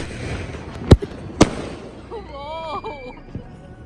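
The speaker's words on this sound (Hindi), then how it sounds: "देखिए पापा पटाखा शॉर्ट्स जलाते हुए" Firecrackers set off by a family at home for Diwali: two sharp, loud bangs in quick succession, followed by fizzing and whistling crackle, with voices talking throughout.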